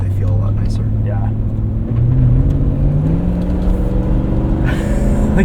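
A 2000 Lexus LX 470 with its muffler removed accelerates under heavy throttle, a loud, steady engine drone with rising harmonic pitch as it downshifts and pulls, heard from inside the cabin with people talking over it.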